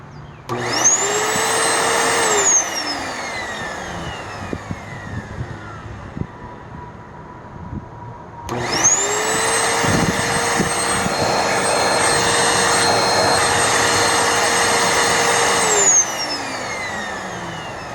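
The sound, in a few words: vacuum cleaner found on the curb running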